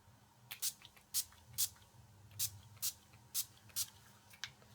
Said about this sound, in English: we're going to use the little sample of the NYX Dewy Finish setting spray